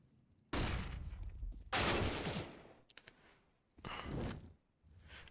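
Bursts of AUG rifle fire sprayed into a smoke grenade in the Counter-Strike video game at an IEM Cologne match, three dense loud volleys separated by short quiet gaps, no talk.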